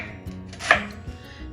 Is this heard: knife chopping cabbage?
yes